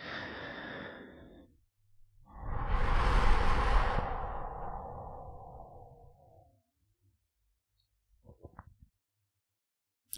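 One long, deep exhale drifts out softly and close during a calm hypnosis session, followed by quiet and a few faint small sounds.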